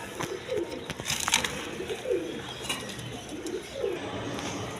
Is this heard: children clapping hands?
no